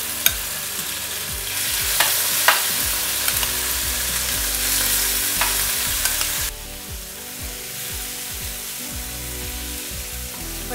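Chicken pieces frying in hot oil in a pan, a steady bright sizzle with scattered crackles and a few sharper utensil taps, the sizzle dropping noticeably in intensity partway through.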